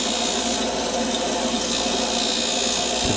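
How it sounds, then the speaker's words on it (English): A Scotch-Brite wheel smoothing an aircraft front spar part, a loud continuous abrasive whir with a steady motor hum, close and unbroken, no voices. "And finally we finish up with the Scotch-Brite wheel"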